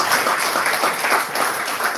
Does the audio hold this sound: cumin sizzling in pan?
no